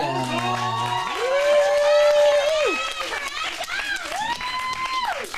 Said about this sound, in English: Let's get a big round of applause for Veronica.